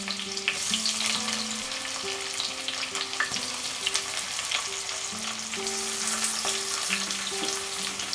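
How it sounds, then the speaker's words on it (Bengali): Chopped onions, two large ones, fry over medium heat in a pot, giving a steady, close sizzle that runs unbroken throughout with no talking. "পেঁয়াজটাকে মিডিয়াম আঁচে ভালো করে ফ্রাই করতে হবে"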